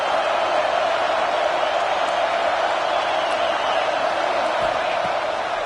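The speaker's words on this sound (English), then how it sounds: "Third down play in the red zone, and this crowd is at fever pitch." A football stadium crowd at LSU roars without letup on a third-down play in the red zone, a dense, loud wash of voices filling the whole stretch.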